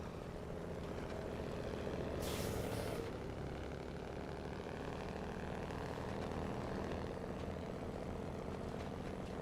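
A Kenworth 963 truck from SnowRunner runs with a steady, droning engine rumble that holds an even level throughout, plus a brief hissing burst early on.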